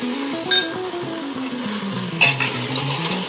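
Wild shiitake mushroom soup stirred in a pot with a utensil, a steady bubbling simmer with occasional clinks of metal against the pot, close and continuous, no voices.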